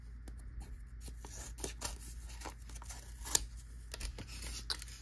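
Scissors snip and rustle through paper while opening envelopes of sports cards received in the mail, a series of faint, close cuts and crinkles spread irregularly over quiet background noise.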